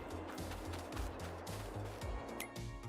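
Chickens in Farming Simulator 22 give repeated low clucks and gobble-like calls that overlap in an uneven rhythm over a steady background hum, fairly close and even in level.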